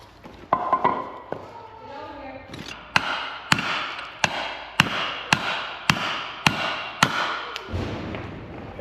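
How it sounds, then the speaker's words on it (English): Hammer blows on a block of wood during prep work on a kids' buggy: a few light taps, then about ten evenly spaced sharp knocks, close and loud, with no talking. "I'm just gonna use the old hammer and wood trick."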